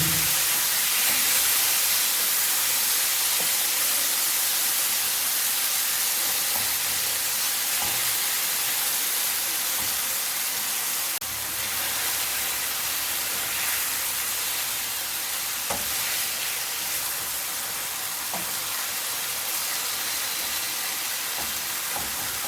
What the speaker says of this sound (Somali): jikinka ayaan kusoo shubaynaa haddana